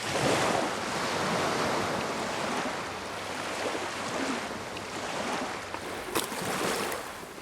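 Sea surf breaking on a Santorini shore, a steady loud wash of waves with gusting wind noise throughout and a sharper splash near the end.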